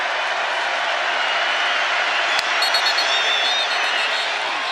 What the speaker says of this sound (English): this crowd has really gotten into it